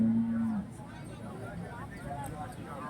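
A single low cow moo sounds at the start at a cattle market in Neknur, followed by a noisy outdoor background with faint murmuring.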